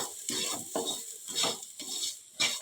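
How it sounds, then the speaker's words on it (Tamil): Spiced masala sautéing in oil in a pan for a brinjal, broad bean and dried fish curry, heard as a close, soft sizzle with bursts of stirring and scraping at an uneven rhythm. "மசாலா எல்லாமே எண்ணெயிலேயே வதங்கும்போது குழம்புக்கு வேண்டிய கலர் நல்லா கிடைக்கும்"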